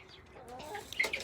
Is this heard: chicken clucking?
yes